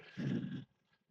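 A brief, close dog vocalization, a short low whine or grumble lasting under a second, then quiet.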